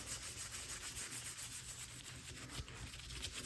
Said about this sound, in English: Lacquer thinner is taking this off very easily.